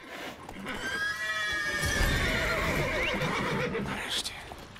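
Several horses whinny and snort in The Witcher 3: Wild Hunt, their drawn-out neighs overlapping above a steady layer of hoof clatter and background game noise, with a voice speaking faintly underneath.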